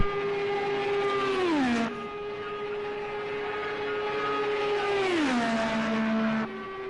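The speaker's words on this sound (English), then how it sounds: "here he comes, our third car down the front stretch, and he'll be taking the green flag" A race car in the Project Cars 2 racing game roars down the front stretch at Indianapolis during Indy 500 time trials, its loud steady engine drone dropping sharply in pitch twice as it passes by.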